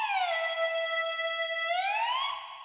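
A bright, buzzy synth lead from a remake, played clean without the Camel Crusher distortion plugin, holds one steady note and then bends upward, loud and unaccompanied.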